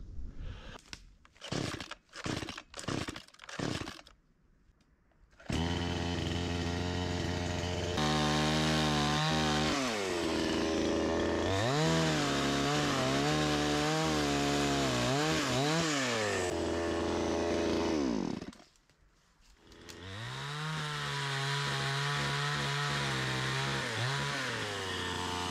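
A chainsaw cuts into a fallen log in a forest: a few short revving bursts, then long loud sawing passes with pitch dipping under load, a brief drop to idle, and another sustained cut.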